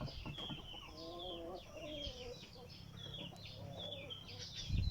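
A Tanaka Shamo gamefowl rooster clucks in a run of repeated calls among other fowl on a farm, with steady background bird noise and a short low bump near the end.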